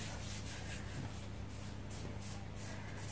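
Steady, continuous rubbing of hands smoothing fondant over a cake, a soft dry swishing with faint rhythmic strokes and no pauses.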